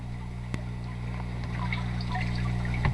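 Water trickles and splashes steadily in a DIY hydroponic cloner with tomato clones, a soft continuous running-water sound heard up close with a faint pump hum underneath.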